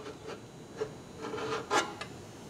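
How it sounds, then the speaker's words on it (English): Chunks of sludge are scraped from the bottom of an old, neglected Willys Hurricane engine during teardown: close, gritty rasping strokes, several in a row, with one sharper scrape near the end. "look here in the bottom. I mean, scrape up just chunks of sludge"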